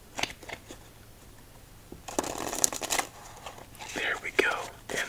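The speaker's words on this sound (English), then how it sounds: "Let's give this deck 2 more shuffles" A deck of Poker Cats playing cards is shuffled close up in a quiet room: soft handling rustles at first, then two crisp, fluttering riffle shuffles, each ending in a brief bridging whir.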